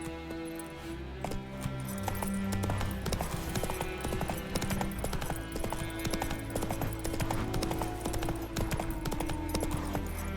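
Roach, a horse in The Witcher 3 video game, gallops with steady rapid hoofbeats over a busy, loud game soundscape with music-like tones, continuous for the whole stretch.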